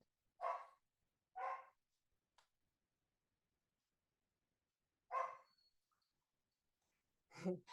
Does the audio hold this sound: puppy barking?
yes